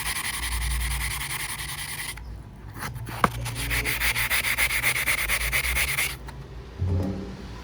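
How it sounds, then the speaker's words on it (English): 80 grit sandpaper rubbing across a soapstone surface in repeated back-and-forth strokes, loud and close, with a brief pause and a sharp knock partway through before the rhythmic scraping resumes. "This is some 80 grit sandpaper."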